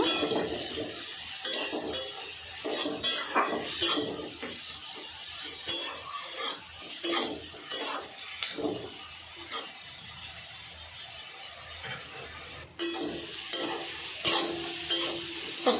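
A spoon stirs eggplant, potato and tomato frying in a pan, with scraping and clinks of utensil against metal and a soft sizzle, in irregular bursts that pause briefly before picking up again.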